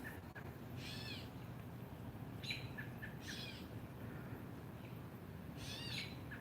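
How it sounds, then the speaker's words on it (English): A red-tailed hawk gives several short, high calls at irregular intervals, faint and distant over a constant outdoor background hiss. "He's a red-tailed hawk."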